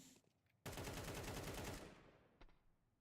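A sudden sustained burst of rapid automatic gunfire in a Counter-Strike match, loud and close, cutting off abruptly, then a single sharp shot after a short pause.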